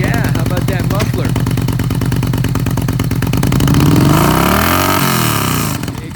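A used 2013 Yamaha V-Star 950 V-twin cruiser runs loud and close through its muffler, a steady throbbing idle that swells into a rev and then settles back down.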